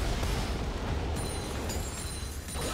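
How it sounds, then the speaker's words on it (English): A turret is destroyed in a League of Legends top-lane match between Rumble and Yone, a loud sustained blast of crashing explosion noise with bright ringing tones over continuous battle effects. "Team's turret has been destroyed."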